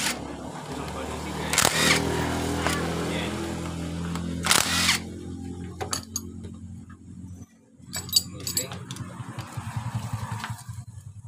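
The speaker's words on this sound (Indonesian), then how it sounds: "Lepas baut gigi timing." A power tool loosens the timing gear bolts on a Honda Supra X engine in a few short, sharp bursts of whirring and rattling, close by amid clinks of metal and workshop noise.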